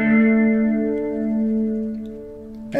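A three-string fretless cigar box guitar is played with a slide on a House of the Rising Sun lesson line. A single sustained, ringing note holds steady for over two seconds and ends in a brief scrape, with no talk.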